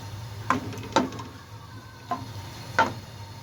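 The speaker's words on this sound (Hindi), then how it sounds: "इसमें मैं डालूँगी सबसे पहले प्याज को मैं तकरीबन 1 मिनट तक फ्राई करूँगी ऑयल में" Onions fry in oil in a karahi with a faint, low sizzle, broken by four light clicks and scrapes of a spoon stirring.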